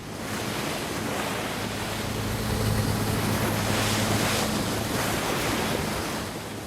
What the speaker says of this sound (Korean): 바람이 약해지고 파도도 잠잠해 조업하기에 좋은 날씨입니다